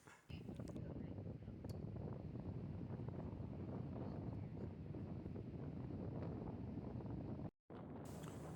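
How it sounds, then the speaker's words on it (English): Strong wind buffets the microphone outdoors near a van, a steady loud roaring rumble that runs the whole time with a brief dropout near the end. "this wind is kicking"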